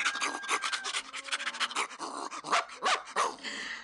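A dog barks rapidly and excitedly in a string of sharp, close barks, with some whining yelps mixed in.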